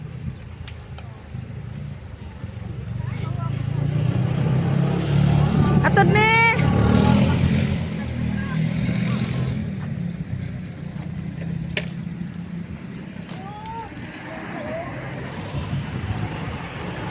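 Tricycles, motorcycle taxis and other vehicles pass on a street, their engine rumble swelling and fading with one louder pass midway, under frequent nearby talk.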